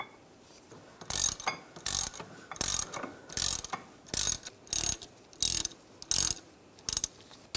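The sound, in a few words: tightening BMW caliper bracket bolts with a ratchet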